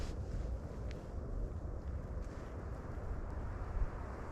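Brisk wind rushing through trees on an open hillside trail, a steady broadband roar buffeting the microphone throughout with a few small gusts and no speech.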